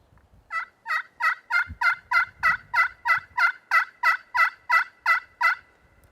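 Wild turkey longbeards in Georgia pines gobble in a rapid, evenly spaced series of about fifteen loud, close calls, with faint rustling underneath.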